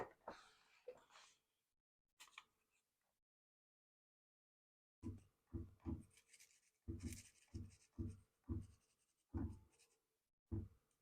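A sheet of paper slid back and forth beneath a CNC router bit on an Onefinity Elite Foreman while setting Z zero over a wooden sign board, giving close, soft scraping and rubbing strokes in short bursts separated by silence.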